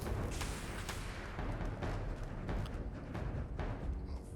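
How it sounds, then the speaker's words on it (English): Continuous rumbling booms and sharp blasts from the video game Fallout 76, with repeated explosions layered over a dense, steady barrage of noise. "maybe the explosions are a bit bigger?"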